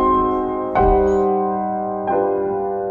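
A sustained harmonic cadence on piano or keyboard, a German augmented sixth chord resolving from the fifth to the tonic, with two clear chord changes ringing out alone.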